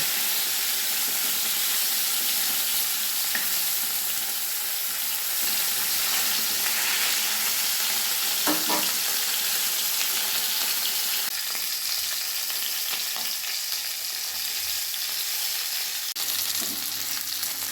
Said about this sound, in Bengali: মিডিয়াম আঁচে মাছগুলো এবার আমি ভেজে নেব